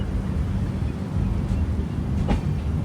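A superfast express train on the Rameshwaram to Bhubaneshwar route, running near Thanjavur, heard from on board as a steady, loud rolling rumble of wheels on rails with no talk.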